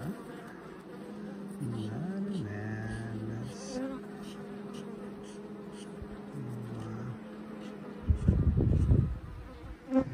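A low buzzing of honeybees at a hive drones through, with individual bees passing close by, plus some handling noise and a brief loud rustle near the end.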